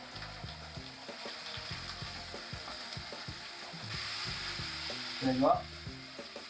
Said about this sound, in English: So, just adding the butternut squash nice in the pan.